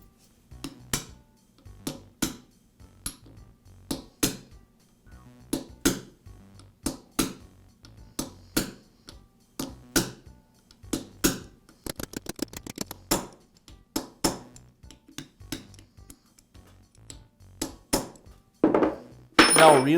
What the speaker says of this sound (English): I'll use a punch to carefully tap the bearing back into the carrier